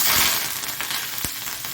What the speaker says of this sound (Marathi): तर मोहरी टाकते त्यानंतर जिरे